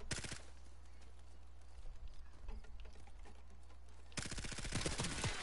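Machine gun fire in the Call of Duty video game, rapid steady rattling bursts at the start and again louder toward the end, with quieter patter between.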